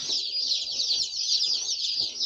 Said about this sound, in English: we've got the chicks home